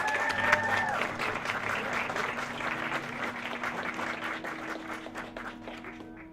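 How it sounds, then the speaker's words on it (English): Audience applause for a performer at a college poetry event, steady clapping from a crowd that holds for several seconds and slowly thins toward the end, with faint voices and a sustained tone underneath. "So give him a round of applause."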